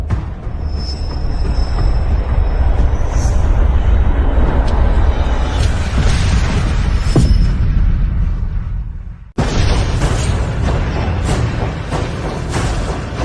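A loud, sustained rumbling roar from an exploding airplane in a drama, a dense low-heavy blast that swells, cuts abruptly to near silence, then bursts back with crackling debris-like noise.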